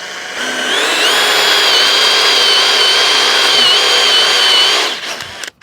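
A power drill counterbores into a wooden handrail, a steady loud whine running about four seconds with slight pitch wavering before spinning down and stopping.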